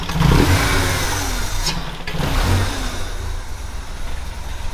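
A Peugeot 316 turbo engine with a loose hose and a stumble under acceleration revs up loudly and close, swells again midway, then settles into a rough idle, with no voices.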